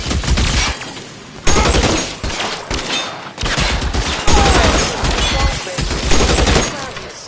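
A gunfire shootout in the video game L.A. Noire: loud, dense bursts of shots that repeat through the whole stretch with brief lulls between them.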